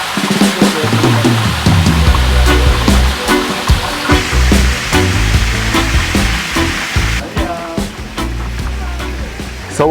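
A lobster sizzles and crackles loudly over an open fire at a Hellshire Beach seafood stand in Jamaica, a dense, hissing roar with sharp pops that eases slightly near the end.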